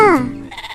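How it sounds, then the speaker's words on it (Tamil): A sheep on a farm gives one short, loud bleat close by, its wavering cry falling in pitch before trailing off into faint noise. "இது நம்ம செம்மறியாடு."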